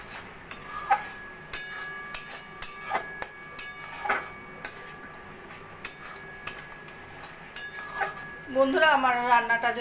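Mango pickle being stirred in a cooking pan, heard as repeated metallic clinks and scrapes of a spoon against the pan at a loose rhythm, followed at the end by a short stretch of voice.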